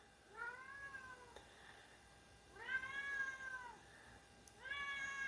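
A house cat meows three times, with long, drawn-out cries coming from a short distance at moderate loudness over a quiet background, with no one speaking.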